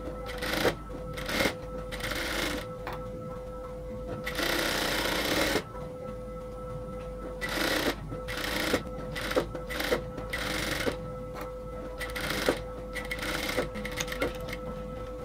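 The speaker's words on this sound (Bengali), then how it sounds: "গলার একদম ভেতর দিয়ে আমি 1/2 ইঞ্চি পরিমাণ রেখে কাপড়টাকে একদম চারপাশ থেকে ঘুরিয়ে সেলাই করে নেব একদম রাউন্ডভাবে" A sewing machine stitches a round neckline on a nightie in bursts of rapid mechanical whirring, with pauses between runs and a steady hum underneath.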